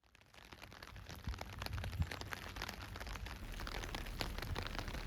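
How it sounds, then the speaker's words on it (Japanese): Steady rain falls at a hilltop park, Hiyoriyama Park in Ishinomaki, as a soft, continuous patter of drops that fades in and holds at an even, fairly faint level. "さっきからずっと雨が降り続いてます。"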